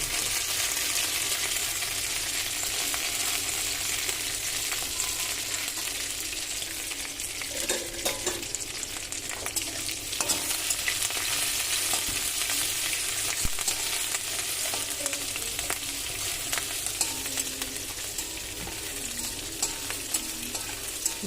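Boiled amaranth leaves fry with ginger garlic paste in a pan, giving a steady, dense sizzle with scraping stirring strokes throughout and no talk.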